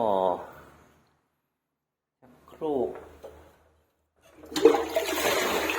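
A toilet in a park bathroom at Cha-am forest park in Phetchaburi flushes with a loud, rushing burst of water, after short stretches of someone talking separated by silence.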